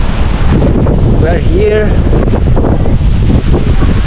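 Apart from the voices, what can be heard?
strong wind blowing on the Faroe Islands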